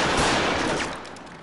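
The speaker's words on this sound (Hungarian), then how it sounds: "Csak egy lövést kértem, János." Gunfire at a shooting range: one dense, loud blast that fades quickly.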